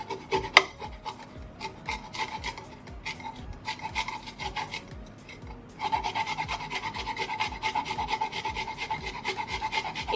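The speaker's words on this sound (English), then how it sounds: "I have my ginger already rinsed and I'm just going to go ahead and grate it" Fresh ginger root with the skin on is rubbed against a grater in quick rasping strokes, steady and close, growing busier and louder partway through, with no talk.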